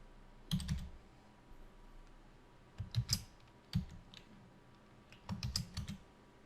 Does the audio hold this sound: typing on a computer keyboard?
yes